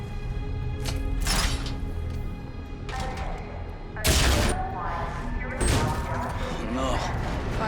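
Call of Duty Infinite Warfare battle gunfire from a firing squad: a few sharp volleys and heavy booms spaced apart, loud and close, over ongoing mechanical noise with voices speaking.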